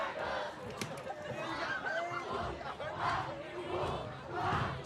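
Home crowd at a Thursday-night high school varsity football game, Pacifica at Garden Grove, a steady wash of chatter and shouts that swells into louder cheers.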